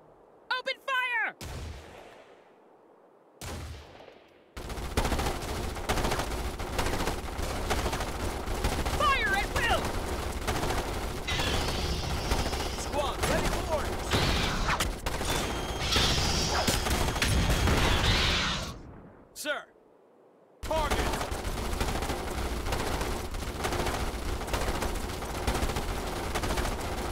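Sustained gunfire from the Starship Troopers: Terran Command battlefield, dense rattling volleys running loud and continuous for most of the span, with brief voice callouts and short pauses near the start and end.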